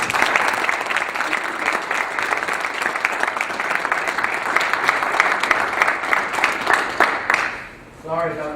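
Audience applause at a talk welcoming the speaker, dense sustained clapping from a crowd that runs steadily for several seconds before fading, with a voice starting to speak at the end.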